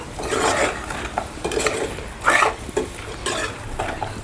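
Sliced onions and green chillies sizzle in a pan for chicken liver fry, with several scraping stirs of a spoon against the pan breaking through the frying hiss in uneven bursts, close up with no talking.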